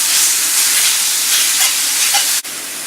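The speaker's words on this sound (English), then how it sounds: "So I want this meat to get a good sear on it. That's why I waited until the skillet was so hot." Pork scraps sear in a very hot dry skillet with a loud, even, close sizzling hiss that ends in a sharp click near the end.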